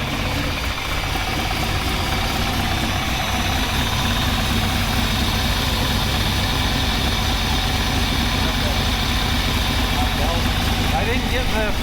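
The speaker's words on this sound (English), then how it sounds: "it fired right up like it started this morning. So runs good. We're just gonna let it run for a second." A freshly installed engine in a Toyota FJ45 idles steadily and loudly close by, a continuous low rumble with a fine mechanical chatter, while people talk faintly over it.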